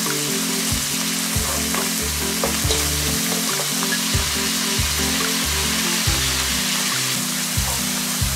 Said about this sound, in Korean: 고춧가루 들어가서 또 이제 볶아주고요.